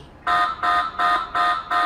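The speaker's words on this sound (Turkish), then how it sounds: "Gördüğünüz gibi buzzer ses çıkarmaya başladı." The alarm buzzer of a handheld body-temperature thermal camera, set off by a lighter's heat, sounds in five steady, evenly spaced bursts of about a quarter second each, loud and close, with nothing else around it.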